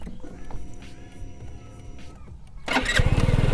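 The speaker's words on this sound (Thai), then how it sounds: "แล้วก็ปุ่มสตาร์ทเดี๋ยวสตาร์ทให้ฟัง" A Scomadi Technica 125i scooter engine is started with a short electric crank, then fires up and idles loudly and steadily.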